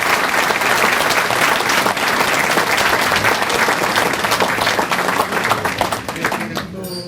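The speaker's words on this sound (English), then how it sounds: "A round of applause," Sustained, dense applause from a luncheon crowd at a sports hall of fame induction event, honoring the board of directors; steady and loud throughout, with some voices mixed in as it tapers near the end.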